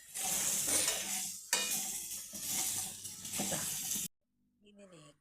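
Green chillies with a pinch of salt sautéed in a pan for a prawn chutney, giving a loud, steady sizzle with spoon scraping and stirring for about four seconds before stopping abruptly, followed by faint clinks.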